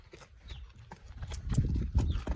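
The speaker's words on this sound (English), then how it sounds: "My horse Dylan is a off-the-track thoroughbred, which means he was a racehorse" Off-the-track thoroughbred horse, a former racehorse, with hooves clip-clopping in an irregular walking rhythm, growing louder and closer toward the end, alongside faint rustling.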